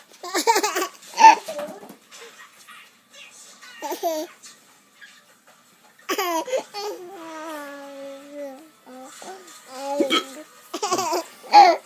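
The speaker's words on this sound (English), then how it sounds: "I don't think I've got any more hiccups" A man hiccups a few times at home, short sharp catches scattered between a baby's giggles and adult chatter, with bursts of laughter and talk filling most of the clip.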